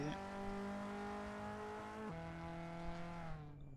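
A race car at the Nogaro circuit sets off on a single steady engine note that holds, then shifts down in pitch partway through as it pulls away, fading at the end.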